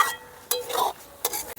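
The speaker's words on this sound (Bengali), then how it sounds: "মশলার সঙ্গে আলুটাকে কিছুক্ষণ কষিয়ে নেব।" Small red potatoes are stirred with spices in a pan, giving two or three brief scraping strokes over a faint sizzle.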